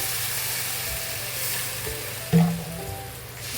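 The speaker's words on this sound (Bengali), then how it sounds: "জলটা আমি অ্যাড করে দিলাম" Masala for egg curry sizzles steadily in a hot pan, and a sudden splash-and-hiss bursts up as water is poured in. The frying then settles back to a softer, continuous crackle.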